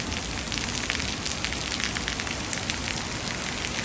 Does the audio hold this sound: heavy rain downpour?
yes